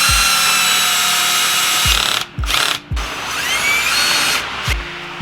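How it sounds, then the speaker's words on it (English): A cordless power drill with a built-in light fastens parts of a carbon fiber racing steering wheel in a G37 sedan, making several short whirring bursts over a steady background hum, close to the microphone. "It's very handy to have a drill with a light on it so you can see exactly what you're doing."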